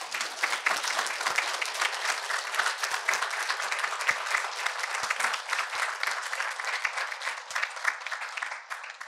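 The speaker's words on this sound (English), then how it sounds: "Can y'all give them a round of applause?" Sustained applause from an audience at a talk on sex trafficking, a steady wash of many hands clapping at even loudness for several seconds, tapering slightly at the end.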